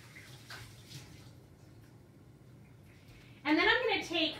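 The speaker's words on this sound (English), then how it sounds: "I'm gonna rinse my hands" Hands being rinsed under running tap water, starting after a quiet stretch and close, with a steady splashing rush near the end; faint talk earlier.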